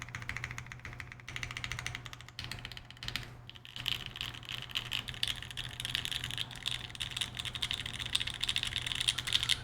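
Typing on a Geonworks F1-8X mechanical keyboard with an aluminum plate, a rapid continuous patter of muted clacky keystrokes up close over a low steady hum, no voices.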